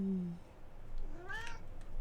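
A cat gives a single drawn-out meow partway through, close and fairly clear, with a short low tonal sound at the start and quiet room background.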